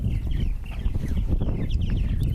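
A chicken clucks repeatedly and close by in an outdoor animal enclosure on a windy day, the short rhythmic clucks rising over steady low wind rumble.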